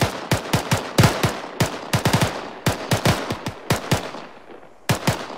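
Squad gunfire in the video game Arma 3 during infantry training, a rapid irregular string of sharp, loud rifle cracks in short bursts with echoing tails, fading briefly before a final pair of shots.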